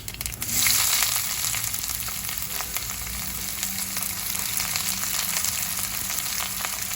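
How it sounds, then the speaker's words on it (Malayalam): Chopped onions hit hot oil with mustard seeds and chili for a baby cabbage stew, followed by a loud, continuous close-up sizzle with scattered crackles and occasional stirring scrapes. "ഇനി ഈ സവാള നന്നായിട്ട് വഴറ്റിയെടുക്കണം."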